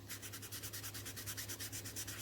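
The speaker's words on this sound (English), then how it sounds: "Just a little bit of sanding on these guys, just to get any of that smear from that alcohol ink" Polymer clay pendants being lightly sanded to remove alcohol ink smears, a steady run of quick, evenly spaced rubbing strokes, close and fairly quiet with a low hum underneath.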